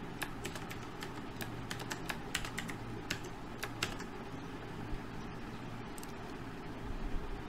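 Quiet, irregular keystrokes tap on a computer keyboard while a password is entered, a light clicking pattern over a steady hum of room noise.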